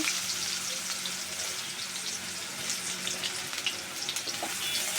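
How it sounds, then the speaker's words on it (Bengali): Chopped onion fries in a pan of oil, giving a continuous, even, moderately loud hiss with small crackles scattered across it and no voices. "পেঁয়াজটা আমি একটু নরম নরম করে ভেজে নেব"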